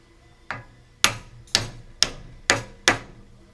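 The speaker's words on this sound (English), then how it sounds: "You notice we're using a brass" Six sharp metallic brass hammer strikes on a 1963 Ford F100 truck kingpin ring out at a steady pace, each followed by a brief ringing decay, close and loud.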